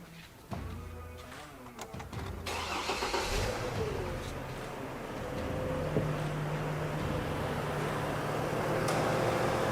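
A car engine cranks over a few times, catches and settles into a steady, fairly loud running drone, with the alternator unhooked for a charging check.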